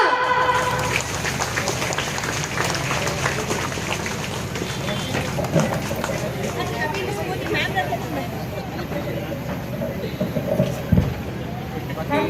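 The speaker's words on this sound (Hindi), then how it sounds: "जोरदार तालियां" Loud, sustained applause from an audience at a birthday celebration during a school event at Udayan Public School in Simaria, Chatra. The clapping is dense and continuous, fills the room for several seconds, and is mixed with crowd chatter.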